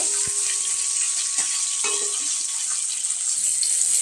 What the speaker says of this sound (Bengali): তো দেখো এখানে মাছটা ভাজছি